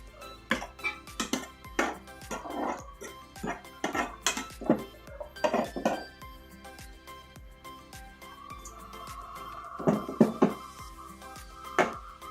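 Metal pots, lids and utensils knock and clink repeatedly in a home kitchen while a tilapia fish steak dish is being cooked, ending with a ringing metallic clang as a lid settles onto a pot.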